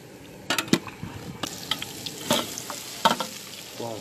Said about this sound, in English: Ready to fucking fry them.